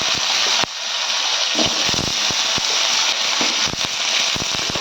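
Cumin, black pepper and small shallots sizzle and crackle in hot oil for a fish kuzhambu, making a dense steady hiss with frequent sharp pops and spits, loud and close, with no talk.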